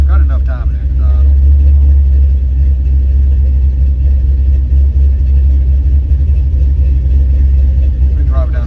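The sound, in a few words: Chevrolet C10 engine cranking up, Holley tuning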